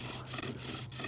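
A bow drill's long wooden spindle rubs steadily in a wooden fireboard notch, a continuous close raspy friction with faint rhythmic strokes, alone without talk.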